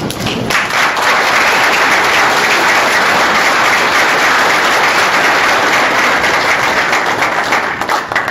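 Sustained audience applause greets Hoboken Mayor Dawn Zimmer at a New Jersey tech meetup, a dense, loud wash of many hands clapping that rises quickly and holds steady throughout.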